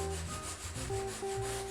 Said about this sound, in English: So now I'm going to go this way with the sanding pad